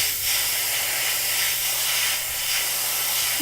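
A steady pressurized paint spray hisses continuously, with slight surges in intensity, close by and without any voices.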